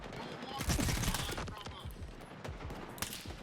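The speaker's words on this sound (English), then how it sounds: "I'm definitely getting shot at." Gunfire from the Skif's pistol and enemy weapons in the video game Stalker 2 crackles in rapid, overlapping shots and distant bursts, mixed with other game sounds.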